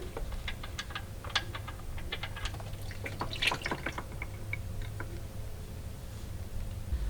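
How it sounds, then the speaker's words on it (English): Engine oil drains from a 2014-2020 Kia Sorento after the drain bolt is removed, a faint close trickle with irregular dripping ticks over a low steady hum. "remove the drain bolt so that all the oil will go in"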